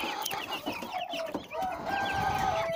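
Chickens cluck steadily and fairly close by, a busy mix of overlapping clucks and calls that may include a rooster, with no one speaking.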